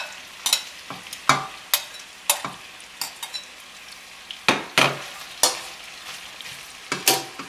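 Onions sizzling in melted unsalted butter in a pan, with a steady frying hiss punctuated by about sixteen sharp scraping stirs in a loose, regular rhythm, close and fairly loud.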